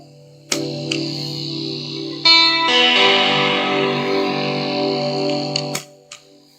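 A sustained, heavily distorted electric guitar chord rings out loudly through a Donner Blue Drive overdrive pedal, then a second distorted chord holds before cutting off with a click.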